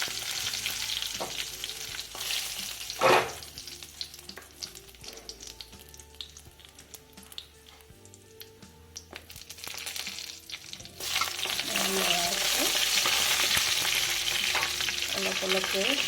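Whole cumin seeds, a couple of cardamom pods and cashews fry in refined oil for a matar paneer, with steady sizzling, a brief stirring clatter midway and a louder, fuller crackle near the end.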